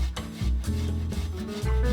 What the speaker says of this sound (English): You can also grate the ginger using a microplane or cheese grater.